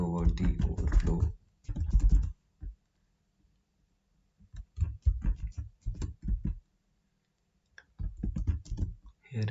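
Code is typed on a computer keyboard in bursts of rapid clicking keystrokes, separated by short silent pauses, close and clear, with no talk.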